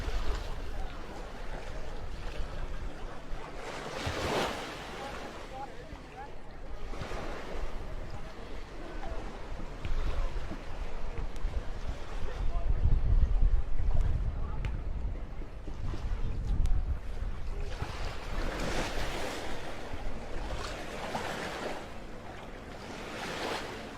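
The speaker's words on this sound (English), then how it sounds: "I'm standing in the sea and getting splashed up my legs." Sea waves at the shoreline wash and splash around a person's legs as they stand in the water during an outdoor coastal protest, a steady close surf wash with wind noise and some distant voices.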